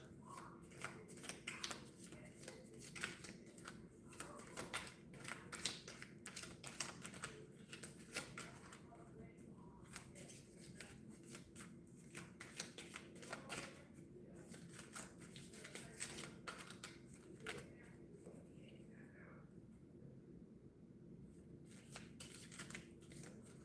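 Quiet, repeated riffling and snapping of a card deck being shuffled during a card reading, with soft flicks and taps continuing steadily throughout.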